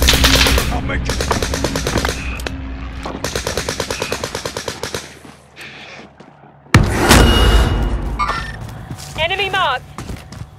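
Long rattling bursts of machine-gun fire in Warzone Pacific, loud and rhythmic, pausing briefly before a heavy boom and more scattered shots, with a voice speaking over the action.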